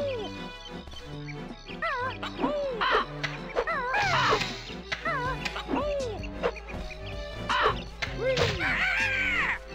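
Cartoonish bird caws from Banjo-Kazooie's Click Clock Wood level repeat in quick bursts over game music, with a few thuds mixed in.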